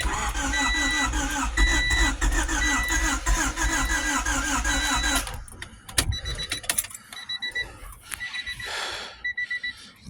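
A D16Z6 engine on its first start attempt cranks in a fast, even, droning whir for about five seconds, then stops. Clicks, rattles and a brief burst of noise follow in the quieter space afterward.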